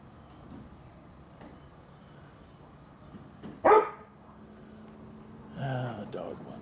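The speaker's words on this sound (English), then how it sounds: "Ah, the dog wants in. I hope someone will let her in." A female dog barks to be let inside, a single sharp close bark around the middle followed by a couple of louder yelping barks near the end, set against a quiet indoor room.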